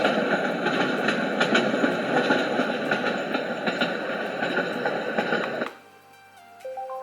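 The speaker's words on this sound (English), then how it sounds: "the last sound is train sound" A small Dreamegg sound machine plays a steady rumbling train sound that cuts off abruptly, followed by a few soft electronic beeps.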